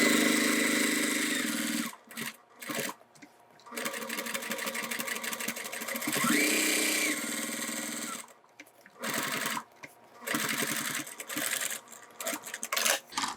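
Sewing machine stitching around the outside of a decor panel on a crossbody bag: rapid mechanical chatter in several bursts, broken by brief pauses and a short whirring rise, close and loud with no talk.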